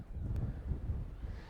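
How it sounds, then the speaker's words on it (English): Wind buffets the microphone by a UK lagoon during bird photography, a steady low rumble with no talk. "excuse the wind if you can hear"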